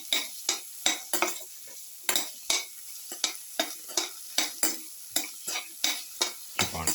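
Salt is stirred into a garlic bitter gourd yogurt raita with quick, evenly spaced scraping strokes of a spoon against the bowl. The strokes are close and crisp, with about two per second and quiet gaps between them.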